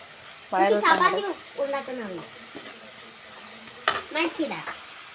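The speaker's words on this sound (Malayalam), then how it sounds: "അപ്പം നമ്മുടെ ഉള്ളി ഇതാ വഴണ്ടോണ്ടിരിക്കുന്നു" Onion sautéing in a pan at home while chapati cooks, a soft steady sizzle and stirring running beneath a woman's speech and laughter throughout.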